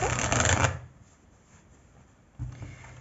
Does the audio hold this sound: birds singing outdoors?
no